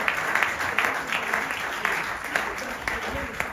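A church congregation claps and cheers in praise of the Lord, a dense, steady wall of applause with voices shouting along throughout.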